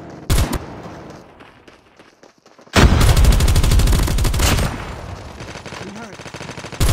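Automatic gunfire from a hostile sentry gun in a video game, with a short burst, a pause, then a long, loud sustained stream of rapid shots that eases off into lighter fire.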